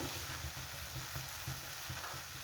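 Turmeric goes into a sizzling pan of frying food, giving a steady, close, fairly quiet crackle with soft stirring scrapes and no talking.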